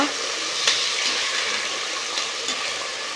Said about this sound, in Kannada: ಇದಕ್ಕೆ ಟೊಮೆಟೊ ಹಾಕೋಣ, ಚೆನ್ನಾಗಿ ಫ್ರೈ ಮಾಡ್ಕೊಳ್ಳೋಣ.